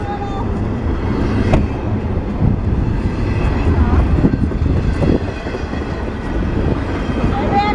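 A heavy westbound CN freight intermodal train rolls by in Fostoria, Ohio, with a steady mechanical rumble and occasional clanks, while people talk nearby over the noise.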